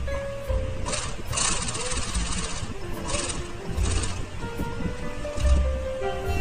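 A Jack E798D-25A sewing machine servo motor running steadily, a continuous close mechanical whir with faint rhythmic pulses, while someone speaks over it.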